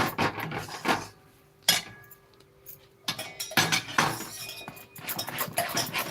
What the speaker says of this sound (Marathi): सारखं व्यवस्थित त्याला मिक्स करा